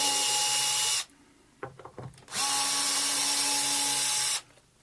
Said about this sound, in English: So yeah, I was going to take this back bit off, just have a quick look inside. Got screws spinning there because it's threaded.